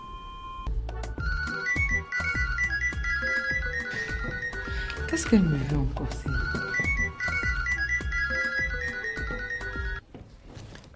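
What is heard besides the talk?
mobile phone ringtone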